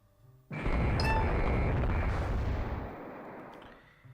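Heavy naval battleship guns fire in the warship strategy game Rule The Waves 3: a loud, sudden broadside boom with a sharp crack, then a long rumbling roar that slowly fades over several seconds.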